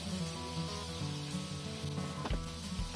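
Thick, firm chayote sautés in a pan with a loud, continuous sizzle. A few scraping stir strokes and a brief clatter sound near the end, with no talking.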